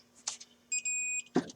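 A short electronic beep sounds during a Saab head gasket swap in a garage, one steady tone lasting about half a second, with faint clicks and voice fragments around it.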